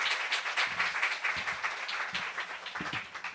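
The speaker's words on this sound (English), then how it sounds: "So give him a big round of applause" An audience at an evening literary event applauds, a moderately quiet spread of clapping with individual claps audible, slightly uneven and tapering off.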